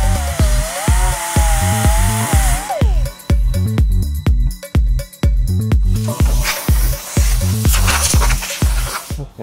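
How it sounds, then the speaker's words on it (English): An angle grinder whines and grinds in rapid rhythmic bursts while grinding down a rust spot on a Miata's bodywork, loud and close, with the pitch shifting under load and continuing steadily. "Probably grab a grinder and I'm gonna grind it real quick."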